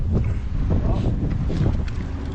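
Strong wind buffets the microphone in a steady, low rumbling roar that covers the whole stretch, up high.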